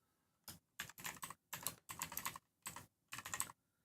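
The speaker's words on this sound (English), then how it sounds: "We're typing all this stuff up" Computer keyboard typing in six separate bursts of rapid clicking keystrokes, close and fairly quiet, with short silent pauses between bursts and no talking.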